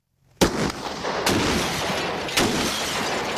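A single loud, close 50 caliber rifle shot sounds with a sharp crack, then a long rumbling roar and a second sharp report in an outdoor test setting.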